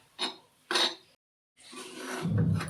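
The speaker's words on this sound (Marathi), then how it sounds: "चांगलं व्यवस्थित सगळं मिक्स करायचं" Vada pav potato mixture being stirred in a pan with a spoon, two short scraping bursts, then a pause and a longer, louder stretch of mixing and clatter against the pan.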